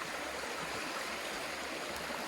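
A small brook on the Appalachian Trail between Marion and Pearisburg rushes and burbles in a steady, unbroken wash of water, close by and uninterrupted by any voices.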